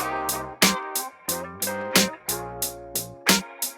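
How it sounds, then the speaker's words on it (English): Old-school FL Studio beat with a snare added, sharp punchy hits landing at regular intervals with the hi-hats and melodic chords. The mix plays loud, with no speech. "Then I added a snare."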